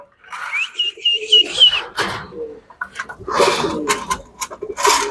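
Domestic pigeons kept in a home loft coo softly nearby in short, irregular bursts, mixed with faint rustling and fluttering sounds.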